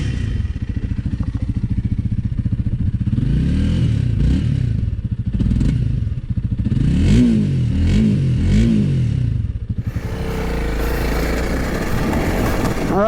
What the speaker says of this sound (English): So I'll turn it on and give it a couple revs.